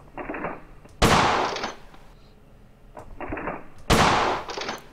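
Two loud, sharp Colt 1911 pistol shots at a shooting range in a video game, about three seconds apart, each followed by a brief ringing tail, with quieter mechanical clicks before each shot.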